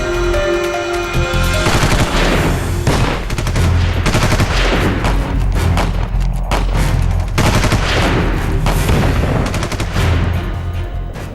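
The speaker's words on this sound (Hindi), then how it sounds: "सीमा पार से लगातार गोलियां बरस रही हैं।" Sustained bursts of gunfire from across the India–Pakistan border crackle continuously, rapid and loud, with dense overlapping shots and booming low thuds, no voices.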